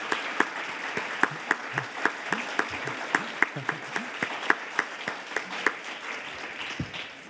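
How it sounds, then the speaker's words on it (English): A conference working group gets a round of applause: lively clapping from a modest crowd with a clear, steady rhythm, fairly close and unbroken for several seconds with no talk over it. "you deserve a big round of applause."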